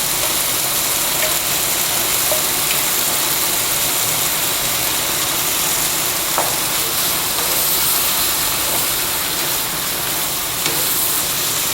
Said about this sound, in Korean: 우리 만들어놨던 토마토 소스 한 컵 정도 하면 한 200g 정도 될 것 같아요. 일단은 그만큼 넣어 볼게요.